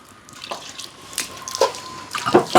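Tap water runs and splashes while a stone grinding slab is washed in a village kitchen, an uneven close trickle with louder bursts of splashing toward the end and no talking.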